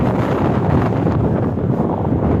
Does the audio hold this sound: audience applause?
no